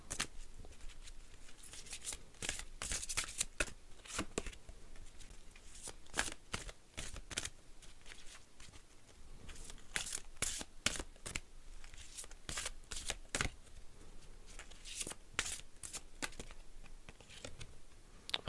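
Oracle cards from the Oracle d'Isis deck are shuffled in a quiet, continuous run of papery riffles and slaps with an irregular rhythm, close to the microphone and with no voice over them.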